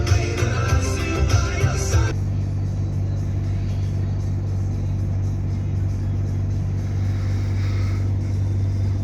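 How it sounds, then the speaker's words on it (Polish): A train locomotive approaching, a steady low rumble that holds for several seconds after a brief burst of music. "Jedzie ciufa."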